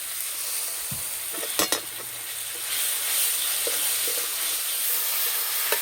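A spice paste with garam masala powder and a little sugar fries in a pan for potato cauliflower dum, sizzling steadily and close. A spatula stirs it with occasional scrapes and knocks against the pan.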